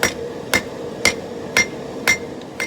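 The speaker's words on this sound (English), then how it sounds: "I'm going to forge it out a little more aggressively" A hammer strikes a hot steel billet being forged into a puukko knife blade, producing six sharp metallic blows at an even, brisk rhythm, loud and close with short ringing tails.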